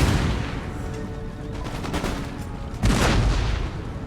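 Musket volley fire from line infantry in Empire Total War, a loud crackling fusillade of overlapping shots that swells again into a second heavy burst near the end.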